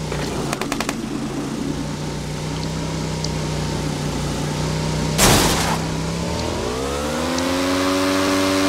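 A steady motorcycle engine drone in the video game PUBG hums throughout, rising in pitch as it revs near the end, with a brief burst of noise partway through.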